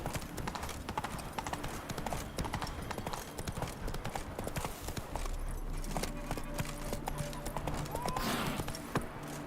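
Horse hooves clip-clop steadily in The Witcher 3, a rhythmic trotting gait heard close amid game ambience, with a brief voice near the end.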